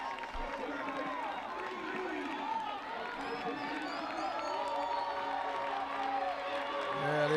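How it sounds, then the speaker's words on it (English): Spectators cheer and clap for runners finishing at a middle school track meet, a continuous moderate crowd roar with whoops and chatter mixed in, swelling toward the end. "they're cheering them on, bringing them home"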